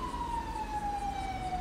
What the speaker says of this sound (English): at least he's a good siren